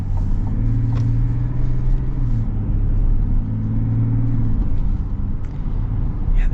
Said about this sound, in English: the diesel torque's quite impressive